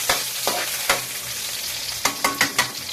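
Shrimp, ginger, garlic and onion sauté in a pan, giving a steady hiss of frying with several sharp scraping stirs of a utensil against the pan, close and moderately loud, no talking.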